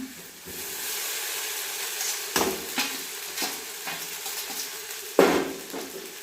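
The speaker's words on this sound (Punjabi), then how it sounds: "ਆਪਾਂ ਪਾਸਤਾ ਪਾ ਦਵਾਂਗੇ ਹੁਣ" Pasta goes into a sizzling pan and is stirred, giving a loud, steady frying hiss broken by repeated scraping strokes of a spoon, with a sharp stir near the end.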